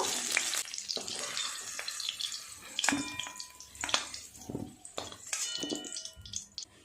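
Potatoes frying in oil, a close crackling sizzle broken by scattered clinks and scrapes of a utensil against the pan.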